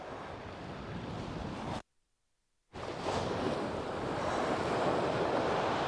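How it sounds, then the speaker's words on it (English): Surf breaking on the shingle of Chesil Beach in winter, a steady broad roar of waves with wind buffeting the microphone, cut by a brief silent gap. "Just in that surf now."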